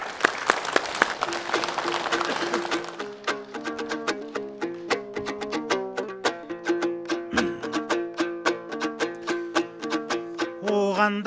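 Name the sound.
audience applause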